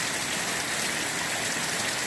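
Heavy rain pouring down hard in Pekin, Illinois, a dense, steady hiss of water falling without a break, loud and close.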